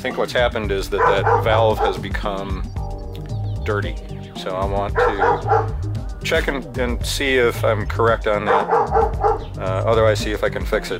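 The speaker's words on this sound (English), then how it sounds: "Sorry about the dogs." Dogs bark and yip repeatedly in the background of a home icemaker repair, steady throughout and partly masked by someone talking close up.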